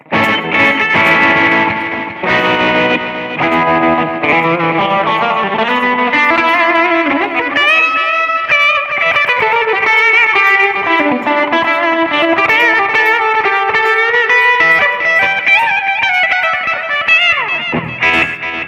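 An electric guitar through a BOSS eBand JS-10 plays a heavily overdriven, distorted line with sustained notes and bends, loud and continuous, no voices.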